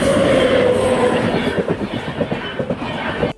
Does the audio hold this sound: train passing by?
yes